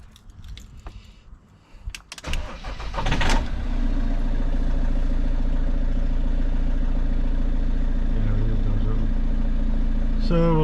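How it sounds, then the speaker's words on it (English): Peugeot Boxer 2.2 diesel motorhome engine, a 2016 model, cranks with clatter and catches at about three seconds, then settles into a steady, loud, close idle rumble that continues to the end; brief jangling and handling noises come before the start. "So the first thing to do is start the engine and get it up to temperature."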